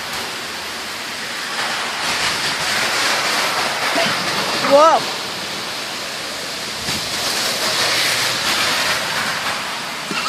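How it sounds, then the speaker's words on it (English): Steady rain falls outdoors where a toddler plays by puddles, a continuous dense hiss throughout, with a brief child's exclamation in the middle. "listen to the rain"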